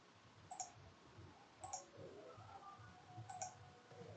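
Computer mouse clicks while an online form is filled in, a handful of crisp, isolated clicks spaced about a second apart over near silence, ending in one sharper click.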